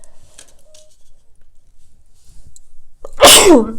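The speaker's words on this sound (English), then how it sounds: "And when I'm sneezing, it's like confirmation of that." After a few seconds of near silence with small faint noises, a person gives one loud, close, explosive sneeze.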